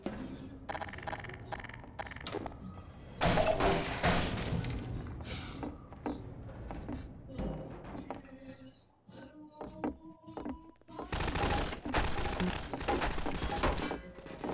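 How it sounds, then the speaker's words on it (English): Bursts of rapid gunfire and booming shots in Half-Life 2 come in clusters with pauses between, loud and sharp, with a voice speaking intermittently. "they're trying to flank me out with gunfire"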